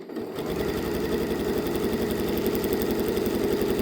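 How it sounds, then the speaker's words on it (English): A sewing machine stitches around a fabric heart shape made from upcycled scraps, its motor buzzing in a steady, rapid, continuous run at close range after a brief start, with no talking. "because we'll also be sewing around the heart shape, we won't have any problem with things unraveling"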